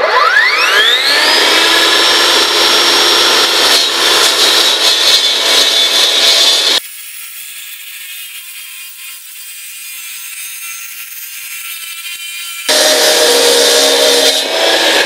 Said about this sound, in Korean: 제가 일단 이 지금 콘크리트 경계석을 먼저 한번 잘라 보겠습니다.